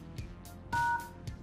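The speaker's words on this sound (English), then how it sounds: "Just go to the dialer and press *#06#." Keypad tones from the phone dialer on a Micromax Eureka as the code *#06# is entered, four short beeps spaced apart with one held a little longer, over faint room noise and no talking.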